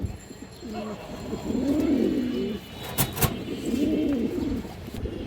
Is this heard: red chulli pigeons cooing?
yes